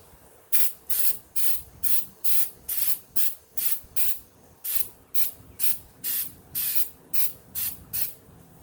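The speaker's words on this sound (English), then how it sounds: "I'm just going to go ahead and spray that with the Flex coating" An aerosol can of Flex coating sprays a sealing layer onto a crack in a molded pond, giving about fourteen short, evenly paced hissing bursts close by, with no talking.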